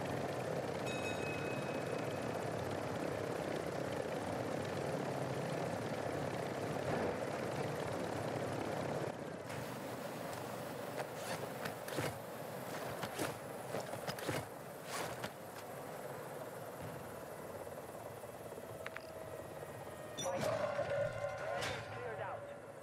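A helicopter drones in Call of Duty Warzone solos, a steady rotor rumble that is strongest early on and then recedes beneath clicks, footsteps and other game effects.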